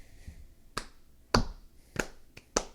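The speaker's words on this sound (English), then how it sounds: "Slow clap, my man." Five sharp, widely spaced hand claps in a deliberate slow rhythm, each one loud and close, with quiet gaps between them.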